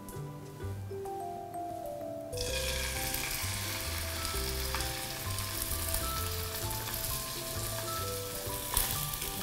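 Chicken skin sizzles and crackles skin side down in a pan over lowered heat, a quiet hiss that jumps louder after a couple of seconds and stays steady with a soft pop near the end.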